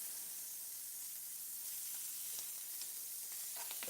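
Shrimp frying in a pan give off a steady, soft sizzle with faint crackles and a few sharper pops toward the end, with no voices over it.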